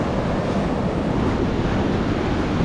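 Sea waves wash against a New Zealand shore as the tide rises, a steady broadband rush of surf mixed with wind buffeting the microphone.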